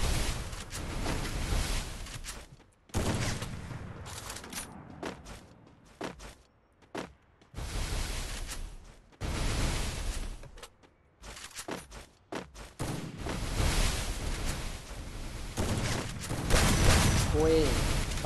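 Gunfire bursts in the Free Fire battle game, sharp broadband shots in clusters separated by short gaps, with a player talking excitedly over much of the action.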